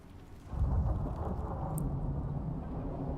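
Rain and rolling thunder from a thunderstorm in the survival game Icarus, a steady loud downpour with a deep rumble swelling in after a quiet start, and a brief lightning crackle partway through.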